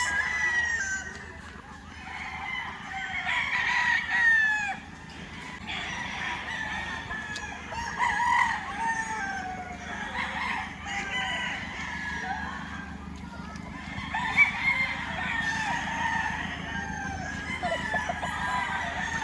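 Gamefowl roosters on a gamefarm with holding and conditioning pens crow repeatedly and cluck, several birds calling at once from nearby and farther off in a continuous, overlapping chorus.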